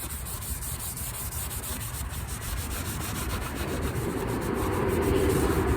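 Hand scuffing of painted car body panels on a 1965 Dodge Coronet, a steady close rubbing and sanding sound that grows slightly louder over several seconds, with no talking.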